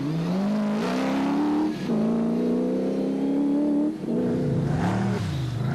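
A Toyota Hilux 4x4 Revo rally car at the Toyota 1000 rally, its engine loud and near, revving up through the gears with two brief drops as it shifts, no voices.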